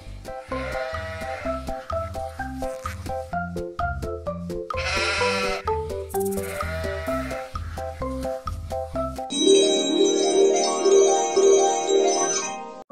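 Sheep bleating in a children's farm animal sound piece, several wavering bleats over bouncy background music, followed by a sustained musical tone.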